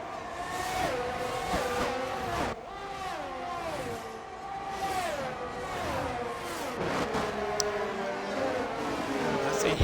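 Formula 1 race cars howl around the Baku street circuit in a racing video game, several loud engines rising and falling in pitch as they accelerate and shift.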